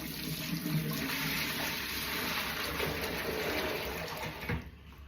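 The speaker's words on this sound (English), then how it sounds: "There you go, tip this water away." Washing-up water tipped from a bowl into a sink gushes and drains in a close, continuous rush that tapers off near the end, with no talk over it.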